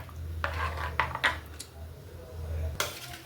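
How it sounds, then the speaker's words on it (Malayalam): Fish curry being stirred in a pot, Kerala style, with a few close scraping and clinking strokes of a spoon against the pot over a steady low hum, with quiet gaps between strokes. "പിന്നെ ഒന്നുകൂടെ മിക്സ് ചെയ്യുക"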